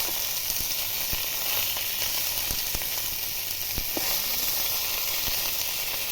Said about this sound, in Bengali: মাছগুলো উল্টো পাল্টে ভালোভাবে ভেজে নিচ্ছি